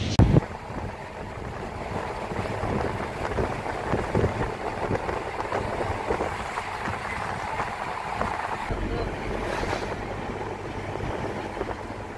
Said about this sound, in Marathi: आमची बोट आतां सगळ्या वेगवेगळ्या चॅनलांतल्यान वता